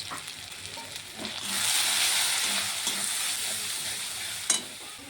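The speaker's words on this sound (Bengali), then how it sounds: "মশলাটিকে একটু ভালো করে কষিয়ে রান্না করে নেব" Spice paste with turmeric and ground spices sautés in a pan for rui fish curry, a close sizzle that swells after a moment and stays busy, with a sharp spoon clack near the end.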